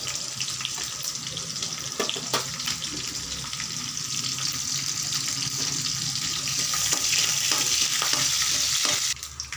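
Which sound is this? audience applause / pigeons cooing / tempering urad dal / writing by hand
tempering urad dal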